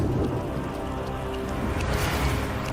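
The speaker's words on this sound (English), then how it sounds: "Until the retroact rain began to fall." Steady rainfall in the Wuthering Waves video game, a dense continuous hiss of drops on surfaces at even loudness with a low rumbling undertone.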